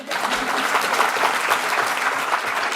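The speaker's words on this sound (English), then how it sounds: "Big clap for Dimmicks" A gala audience at a poetry event claps together, giving a loud, dense and even round of applause that carries on without a break.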